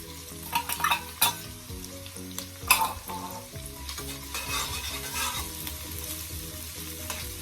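Jerk shrimp with onions and ginger fry and get stirred in a pan on low heat. A steady sizzle runs throughout, broken by clattering stirs and scrapes against the pan, with no talking.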